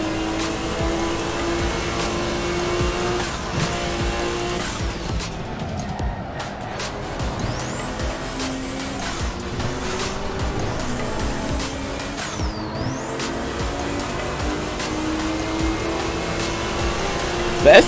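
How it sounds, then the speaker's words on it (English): A Subaru STI engine in the racing game Assetto Corsa drones and revs through gear changes, fairly quiet in the mix, with someone talking over it at times. "The STI engine is a little quiet."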